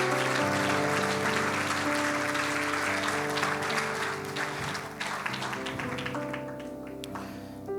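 Church congregation applauding during a service, dense sustained clapping over a held keyboard chord, gradually thinning toward the end as the music carries on.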